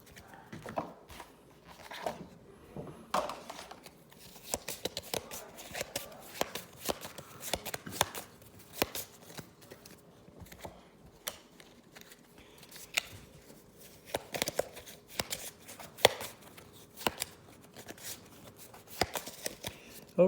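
A deck of game cards for a Gandhi board game playthrough is shuffled by hand, a steady run of soft riffling and tapping bursts at close range, quiet with no talk.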